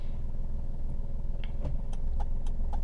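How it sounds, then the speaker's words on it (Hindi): Car engine rumbling at low idle-like revs while the car rolls backward in reverse gear with the clutch fully released, a steady low drone with a few faint clicks and knocks. "पूरा क्लच छोड़ दिया, मेरी गाड़ी पीछे जा रही है।"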